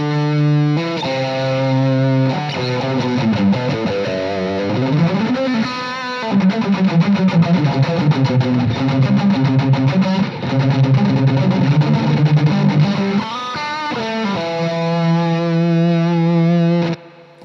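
An electric guitar runs through a Boss DS-1 distortion pedal, playing loud, thick, sustained distorted chords and riffs with a full, buzzy tone that breaks briefly before closing on a held chord.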